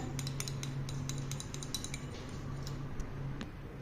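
A spoon stirs an aloe vera gel mixture in a bowl, giving a string of light, irregular clinks and scrapes over a low steady hum.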